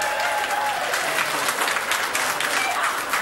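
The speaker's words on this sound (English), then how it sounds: "Are they clapping you or me down there?" Applause from an election night crowd at a 1984 New Zealand election broadcast, steady dense clapping filling the whole stretch at close range, with a faint murmur of voices beneath.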